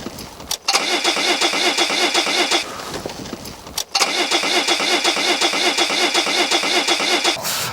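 A Volvo 740 car engine cranks and catches, then runs loud and steady close by, cuts out briefly, and fires up again to run evenly.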